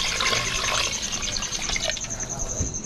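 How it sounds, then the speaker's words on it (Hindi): Water is poured from a vessel over rice and moong dal in a cooking pot while making khichdi, a continuous splashing, gurgling stream heard up close with a bright steady tone and a voice speaking faintly under it. "अब इसमें डालेंगे पानी, हम चावल के ऊपर तक पूरा पानी डालेंगे।"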